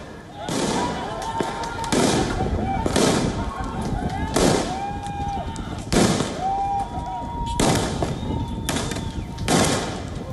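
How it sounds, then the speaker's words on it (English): Firecrackers hurled at police during a street protest in central Beirut, a rapid series of sharp, loud bangs and crackles every second or so over a constant crowd roar. "Protesters gathered in central Beirut and hurled firecrackers at the police"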